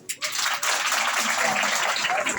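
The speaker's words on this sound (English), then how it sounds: "clap your hands for that?" Students in a classroom clapping their hands together in a dense, continuous round of applause that starts abruptly after a brief pause and holds steady and loud throughout.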